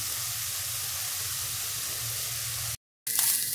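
Small diced pieces of beef fillet sear in a hot pan with a steady, close hiss of sizzling fat, broken by a brief silent cut before resuming.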